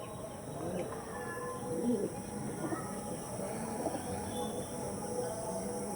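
Pet pigeons coo softly in low, repeated murmurs over a quiet background hum, fairly faint and close by.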